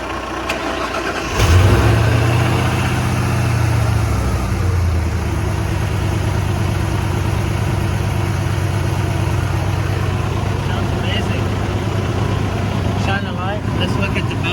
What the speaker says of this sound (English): Now it's time to crank it up and see how it goes.